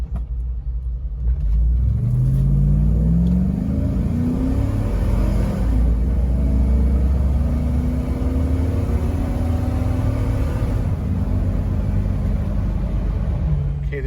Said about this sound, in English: Here's a little acceleration video.